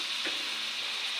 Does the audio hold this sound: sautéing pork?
yes